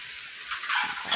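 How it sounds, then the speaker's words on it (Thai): Pork belly being stir-fried with oyster sauce, soy sauce and seasoning in a pan, a brief soft sizzle with light scraping of the spatula against the pan. "ผัดคลุกเคล้าให้เข้ากันนะคะ"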